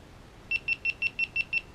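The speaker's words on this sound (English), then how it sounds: "I always turn those beeps off" A GoPro Hero 5 action camera emits seven short, evenly spaced electronic beeps, clear and close against a quiet background.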